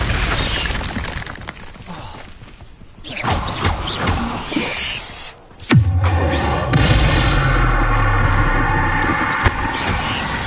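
A Bombarda spell explosion in the Hogwarts Legacy video game, a sudden loud blast at mid-clip followed by sustained rumbling debris and crackling, amid busy game noise.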